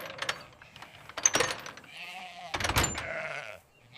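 Sheep bleat close by as they return to their farm enclosure, several wavering calls rising over soft shuffling and faint mechanical clatter, then fading to quiet.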